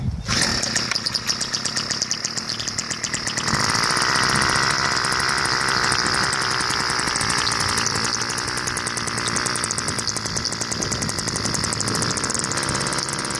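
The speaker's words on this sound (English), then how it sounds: "Like any 2-cycle engine, let it warm up a second to bring the choke down." A small two-stroke model airplane engine on an F-14 Ratattack model runs continuously at a high, buzzing rev, loud and close, with a slight shift in pitch partway through.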